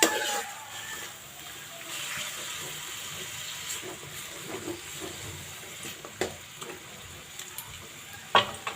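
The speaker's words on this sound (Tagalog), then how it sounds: "Halo-haloin lang muna natin siya." Chicken breast adobo is stirred in a pan, giving a steady low sizzle and hiss with scattered scraping and clinking from the utensil, brief sharper clatters near the end.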